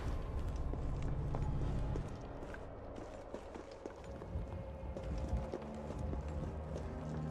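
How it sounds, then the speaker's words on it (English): Heavy stomping footsteps thud in the Resident Evil 3 Remake video game, a rhythmic run of dull impacts over a low rumble, moderately close, with scattered clanks in the background. "I hear stomping around, and I don't know who it is."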